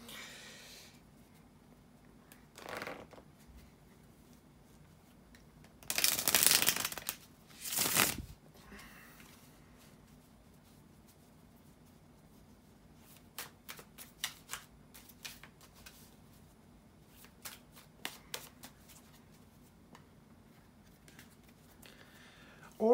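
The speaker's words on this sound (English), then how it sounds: "bear with me a second here to shuffle the tarot cards" Quiet room with a couple of brief bursts of tarot cards riffling, followed by scattered soft taps and flicks of the cards being handled.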